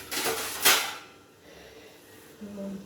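A metal lid goes onto a cooking pot in a home kitchen with a brief scrape and clank, followed by quiet and a faint tonal ring near the end.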